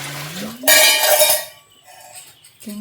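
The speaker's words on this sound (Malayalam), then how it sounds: "അയാൾ പാത്രം കഴുകുകയാണ്." Dishes being washed by hand clink and clatter in a short, busy burst, with a brief tonal hum before and after; close and fairly loud.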